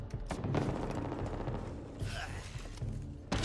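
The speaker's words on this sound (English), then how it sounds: "Need to reload." Mechanical clicks, clacks and ratcheting of a gun being reloaded in the video game Back 4 Blood, a quick irregular run of close metallic handling noises with a louder snap near the end.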